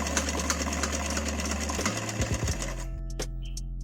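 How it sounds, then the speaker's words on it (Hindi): A sewing machine stitches a lehenga scarf, running with a loud, steady mechanical hum and rattle, then slowing and stopping near the end, leaving only a low residual hum and a few small clicks. "इस तरह से दोनों में अभी सिलाई लगा लेती हूँ।"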